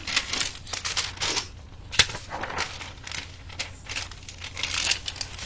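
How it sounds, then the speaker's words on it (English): Paper being folded during a drawing lesson, giving soft crinkling and rustling bursts with a sharp crease snap near the middle, close and fairly quiet, with no talking. "I'll fold my paper."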